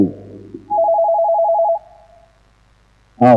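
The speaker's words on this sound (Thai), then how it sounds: "รับสายโทรศัพท์ก่อน" A telephone rings with a steady electronic trill for about a second and then fades out, followed by a short burst of a voice at the end.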